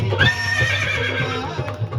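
A horse neighs in a loud, wavering whinny with a rising and falling pitch, heard alone and up close over a low background hum.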